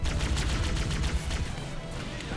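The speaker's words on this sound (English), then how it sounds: "Let's toss some nades out there." Rapid bursts of gunfire and grenade blasts from a battle in Halo CE on Legendary, a dense, loud, continuous clatter of shots and booms rolling through the whole stretch.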